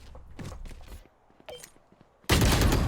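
Pistol shots ring out in the competitive shooter Valorant, a few sharp separate cracks with footsteps and thuds between them, then a sudden loud burst of dense gunfire at the end.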